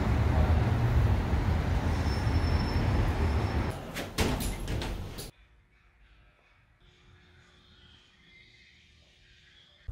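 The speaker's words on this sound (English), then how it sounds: "Oh, wait, don't shut that door." A vehicle door shuts in a store parking lot in Roswell, New Mexico: loud wind and traffic-like roar ends abruptly in a thud, leaving a quiet enclosed interior.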